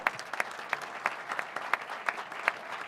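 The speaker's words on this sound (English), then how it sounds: "Let's give Michael a nice big round of applause." Audience applause at a convention session, a steady wash of many hands clapping at moderate distance with scattered sharper individual claps standing out, no talking over it.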